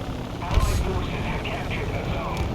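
Propeller aircraft engines from the War Thunder combat game, including a twin-engine plane flying high, drone steadily overhead while someone talks over them.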